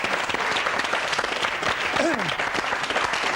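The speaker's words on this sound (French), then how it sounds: "je vous demanderai de les applaudir, le groupe IAM" Studio audience applause for the rap group IAM on a 1997 French TV show, a steady dense wash of clapping throughout with a brief whistle or cheer rising over it midway.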